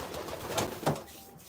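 A racing pigeon coos faintly and close by, a soft low murmur with a slight swell near the end, alone with no talking over it.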